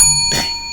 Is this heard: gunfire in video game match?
no